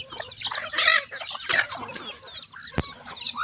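Chickens cluck and squawk close by on a rural farm where young chicks forage alongside older hens, several overlapping calls rising and falling over a busy outdoor background with no talking.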